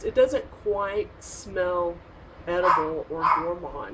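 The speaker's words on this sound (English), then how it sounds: "my dog won't shut up" A dog barks and yips repeatedly in short bursts close by, clearly audible under someone talking indoors.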